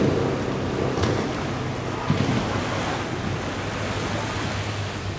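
Ocean surf rolls onto a resort beach in Mauritius, a steady broadband wash of breaking waves mixed with wind buffeting the microphone, continuous and fairly loud with no talking.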